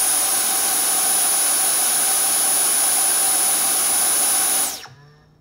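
Dyson V7 or V10 cordless vacuum cleaner running on its medium setting, a loud steady close whine with a high tone, held for several seconds before switching off and spinning down.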